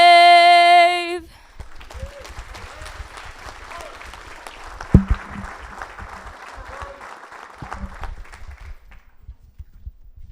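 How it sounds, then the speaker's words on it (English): After a brief held musical tone ends, a seated audience at a Los Alamitos State of the City event applauds following the national anthem, a steady moderate clapping that fades away near the end. "let's give a round of applause to Lily for the national anthem, the Color Guard, and also the string quartet from the high school that was here"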